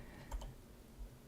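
Quiet computer keyboard typing during an Emacs Lisp coding session, a few soft isolated key taps over faint room hiss.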